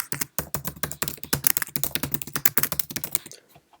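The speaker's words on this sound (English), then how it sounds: "And now what we will do is type in some text." Fast, continuous typing on a desktop computer keyboard, with dense close key clicks in quick bursts that taper off and stop near the end, with no voices.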